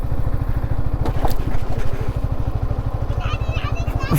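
A rental motorcycle engine putters close by in a steady rapid rhythm as it is turned in a tight spot at a viewpoint near Kookal, with clatter and a voice talking over it.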